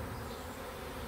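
A newly arriving honey bee swarm fills the air with a dense, steady buzzing drone, faint and continuous with no pauses or voices.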